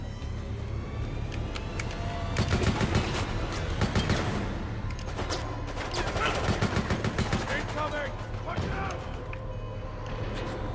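Gunfire rattles through a co-op round of the video game Resident Evil Operation Raccoon City, with rapid automatic bursts and scattered single shots in dense clusters, moderately loud over a steady background hum.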